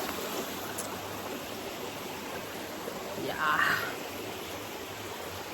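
River water flows in a steady broadband rush close by at a riverside in Portland, Jamaica, filling the whole clip, with a brief spoken word over it.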